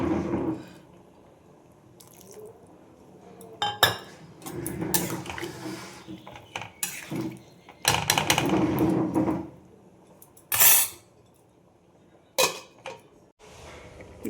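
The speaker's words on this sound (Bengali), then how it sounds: "এবার আমি দিয়ে দেবো চাল। আমি গোবিন্দভোগ চাল নিলাম" Gobindobhog rice is poured into a cooking pot in several separate rattling bursts, with clinks and pauses between the pours against a quiet kitchen background.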